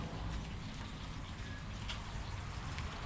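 Steady, soft rainfall patters continuously, a faint even hiss of drops with no other sounds.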